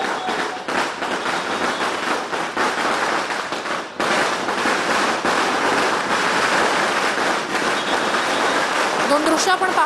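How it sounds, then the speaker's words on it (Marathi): Firecrackers and fireworks welcoming a political road show in Pune, a dense, continuous barrage of rapid crackling pops that stays loud and unbroken throughout, with a brief dip before resuming. "फटाक्यांची आतषबाजीनं काही भागांमध्ये त्यांचं स्वागत केलं जात आहे"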